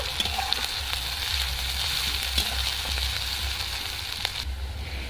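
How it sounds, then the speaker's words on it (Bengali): Turmeric, coriander and chili powder masala sizzles steadily in hot oil in a pan for an egg curry, a constant close frying hiss with occasional faint scrapes of stirring. "হলুদের গুঁড়ো, লঙ্কার গুঁড়ো, মশলাটা ভালো করে কষে নেব।"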